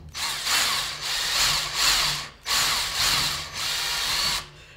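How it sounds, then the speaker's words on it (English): A power drill whirs loudly in several bursts of about a second each, drilling through the plastic plunger of a Nerf blaster, with brief pauses between, close and grinding. "we're just gonna start drilling through the back here"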